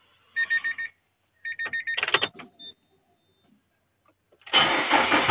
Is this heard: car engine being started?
yes